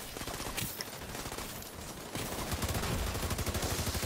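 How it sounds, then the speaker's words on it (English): Gunfire in Tom Clancy's The Division 2 on PS4: sustained rapid automatic bursts, moderately loud, with one stretch of fire giving way to a denser, steadier volley. "I think only two of us are shooting"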